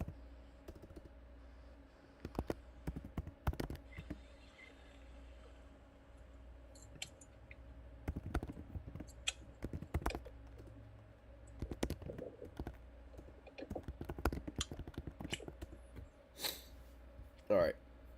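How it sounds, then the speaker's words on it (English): Computer keyboard typing in scattered bursts of clicks at a desk, moderately close, with a steady low hum and occasional voices in the background. "Just gotta start typing."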